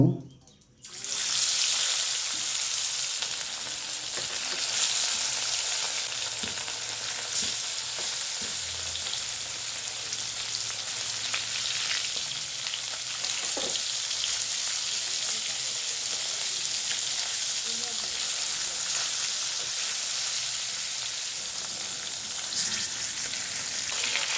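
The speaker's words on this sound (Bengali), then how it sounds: "মাছ ফ্রাই করার জন্য তেল দিব" Pangasius fish pieces rubbed with turmeric fry in oil, giving a long, steady, loud sizzle that starts abruptly and holds evenly throughout, with occasional small pops and faint background chirps, and no speech.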